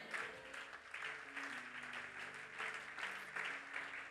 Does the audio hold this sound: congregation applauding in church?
yes